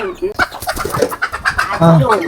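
Two newly bought laying hens at a house clucking close by in a rapid, chattering series that rises into a louder drawn-out call near the end.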